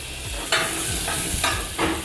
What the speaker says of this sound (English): Put some oil in this. So now we're gonna put the onions in here.